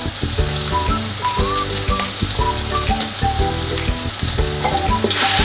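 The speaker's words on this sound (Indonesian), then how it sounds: "Kemudian tumis lagi." Bay leaves and lime leaves stir-fry in a hot pan for tempe and anchovy kering, giving a loud, steady sizzle with scraping stirs and clatter from the spatula, close up and alone.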